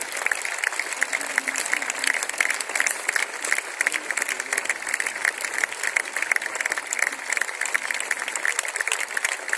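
A church congregation claps loudly and steadily in dense, continuous applause at close range, filling the space with a bright wash of hand claps that keeps going without a break.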